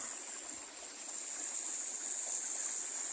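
A creek swollen by Typhoon Paeng flooding rushes past in a continuous, even roar of water with no voices, heard at a moderate distance.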